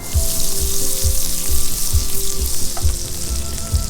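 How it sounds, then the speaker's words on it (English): Fish fillets fry skin side down in a pan of melted butter and olive oil, giving a loud, steady close sizzle with faint low rhythmic thumps beneath and no speech. "take one of those knobs of butter and add it to the pan to melt with that olive oil"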